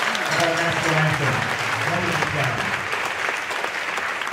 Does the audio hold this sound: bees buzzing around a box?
no